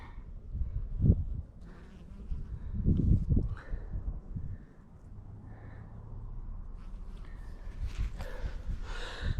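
Bees swarming around a hive near blooming cranberry fields, a low continuous buzz with a few louder close passes early on and steadier droning later, some rustling and breathy noise near the microphone.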